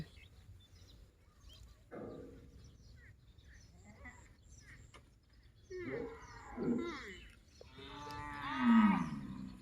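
Water buffalo on a rural Thai farm give several low, drawn-out moos in the morning, moderately close and growing louder across the stretch, with faint background ambience and some quiet talk.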